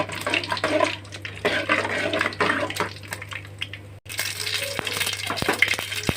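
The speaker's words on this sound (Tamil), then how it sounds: "இப்போ கடுகு பொரியுது." Mustard seeds splutter in hot oil in a pan while Thengai Kara Kuzhambu, a Tamil coconut curry, is being made. Close, sharp pops and crackles come in irregular bursts over a low sizzle.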